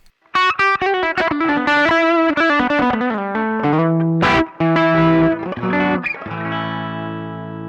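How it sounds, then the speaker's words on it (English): Crunchy overdriven electric guitar through a treble booster, guitar volume backed off, playing a busy lead phrase, then settling into a sustained ringing chord that fades slowly. "the sound of this treble booster with the volume in different positions gives us so much options"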